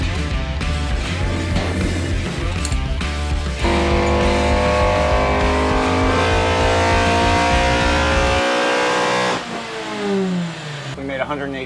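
A Toyota MR2 engine revs hard on a dyno, a loud, sustained roar climbing steadily in pitch before easing off and dropping away near the end.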